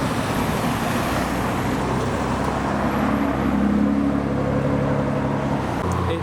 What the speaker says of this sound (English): There is a turquoise Nissan GTR.